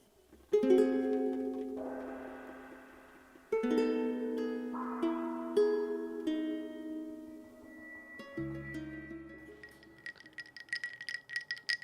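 Ice cubes clatter and clink against a glass of iced coffee in a few loud bursts, with ringing tones between, ending in lighter scattered clinks.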